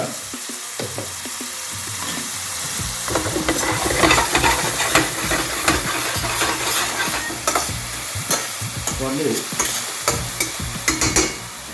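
Onions frying with salt in a pan for a fish and drumstick curry, a steady close sizzle broken by repeated scraping stirs throughout, with no talk.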